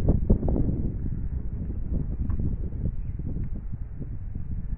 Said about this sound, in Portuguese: O vento hoje tá um pouquinho fraco.